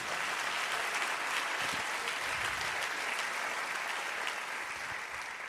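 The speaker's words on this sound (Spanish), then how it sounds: "Vamos a darle ese aplauso a Jesús." Church congregation applauding during a Spanish-language worship service, steady sustained clapping from many hands filling the room for several seconds.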